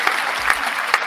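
Audience applause fills a talk-show venue, a thick continuous clatter of many hands with a few brighter individual claps standing out.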